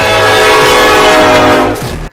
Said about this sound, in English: Thomas the Choo Choo Train